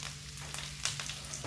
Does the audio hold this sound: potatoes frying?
yes